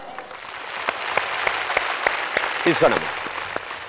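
A studio audience on a Telugu TV game show claps in a steady round of applause, with a host's voice talking briefly over it near the end.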